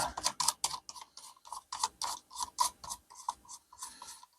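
A J.W. Young's Rapid X fishing reel is screwed into the reel seat of a split cane rod, giving a close run of quick ratcheting clicks and taps in an uneven rhythm.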